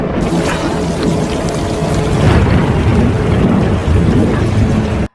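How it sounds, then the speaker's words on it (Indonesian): Heavy rain pours down over a cliff base, a loud, dense, unbroken roar of falling water with deep rumbling underneath, cutting off abruptly at the end. "Kemudian hujan turun dengan deras sampai dasar tebing terlihat seperti sungai akibat dari luapan"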